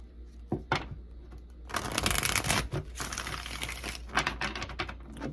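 Tarot cards shuffled close up, a couple of sharp taps followed by dense riffling bursts with papery rustle, fairly loud against a low steady hum.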